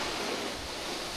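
Sea waves wash onto a beach on the coast near Puri, a faint, continuous hiss of surf mixed with a little wind and no breaks.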